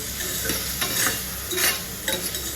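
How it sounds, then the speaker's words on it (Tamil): Tomatoes sautéing in a pan for Madurai-style mutton curry, a soft steady sizzle with a few stirring scrapes of a spoon against the pan, close and moderately loud, with no talking. "அடுத்து தக்காளியை போட்டு அதில் நல்லா வதக்குவோம்."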